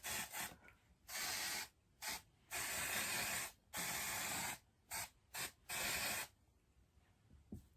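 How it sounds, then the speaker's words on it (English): An aerosol root spray is sprayed onto hair in a series of short and longer hissing bursts, close and clear, with brief pauses between them. "So I'm just going to finish off with some root spray"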